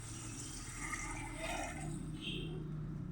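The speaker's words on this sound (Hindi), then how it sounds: "मैं इसमें पानी ऐड करूँगी" Water pours into a pot of chicken pulao with tomatoes, a steady close splashing stream running throughout the short stretch without any talk.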